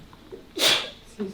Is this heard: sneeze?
yes